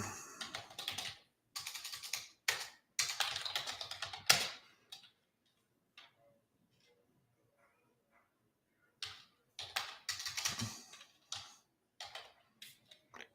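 Close, quick clatter of typing on a computer keyboard in two bursts, separated by a few seconds of near silence, then a few last keystrokes.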